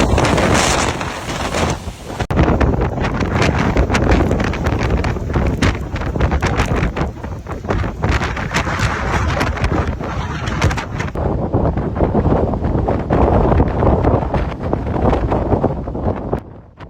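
Storm Floris lashing the Scottish coast, roaring gale-force wind buffeting the microphone over crashing waves, loud and continuous with no voices.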